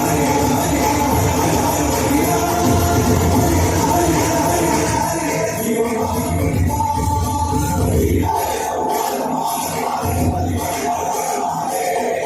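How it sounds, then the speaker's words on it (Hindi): A large audience at the Prithviraj trailer launch event cheers and claps, a loud, continuous crowd roar with mixed voices and music that thins somewhat toward the end. "एक बार जोरदार ताली चाहिए।"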